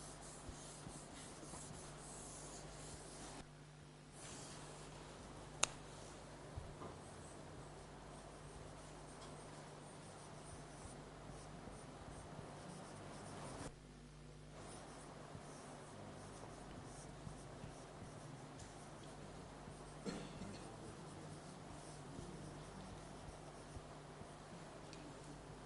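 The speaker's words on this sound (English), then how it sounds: "Let me write it down." Faint writing on a board during a mathematics lecture, with soft scratching strokes continuing steadily for about 25 seconds under a low room hum, with two short pauses.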